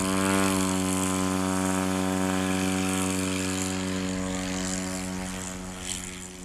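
A STOL airplane taking off at a short takeoff and landing competition in Brainerd, Minnesota, its propeller engine droning loud and steady with a strong harmonic buzz before fading slightly as it climbs away.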